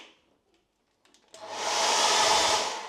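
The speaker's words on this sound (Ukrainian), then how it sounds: "фен" A hotel bathroom hair dryer switches on after a few quiet clicks and blows with a steady, loud whooshing hum that holds to the end.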